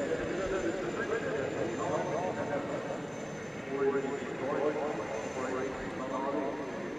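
Airbus A400M military transport aircraft making a flying display pass at the Farnborough air show, a steady broad engine roar holding loud throughout with slight swells, heard under a commentator's voice.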